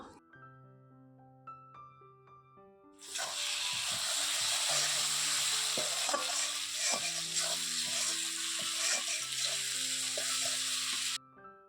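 Goat mutton frying in a pan, a loud steady sizzle that starts abruptly and runs for several seconds alongside stirring scrapes, with a sustained tonal hum underneath, then cuts off.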